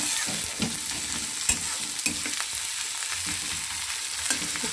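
Onions and chillies fry in a pan with a bright, crackling sizzle as a spoon stirs and scrapes them in irregular strokes, close by, with no talking.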